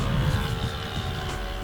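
A Hubsan Zino GPS drone flying hands-free toward a waypoint gives off a steady, even propeller whine and hum with no pauses, fairly loud and close, with no one talking.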